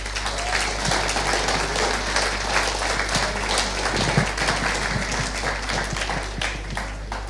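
An audience at a Young Enterprise company programme awards evening applauds the company advisors and teachers, a steady, dense patter of many hands clapping continuously, heard indoors over a low hum.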